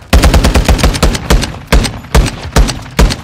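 Loud, close automatic gunfire in Call of Duty: Modern Warfare II, a rapid series of sharp bursts with short gaps between them.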